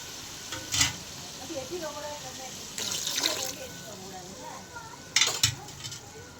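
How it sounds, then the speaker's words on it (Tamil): Water is poured into a pan of sizzling lamb intestine curry in a brief splashing rush, between sharp clinks of a spoon against the pan, while a voice talks quietly. "அடுத்து தேவையான அளவு தண்ணி"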